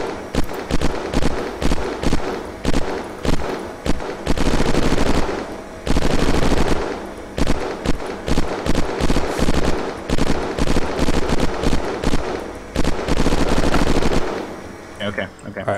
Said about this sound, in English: I definitely fired some extra shots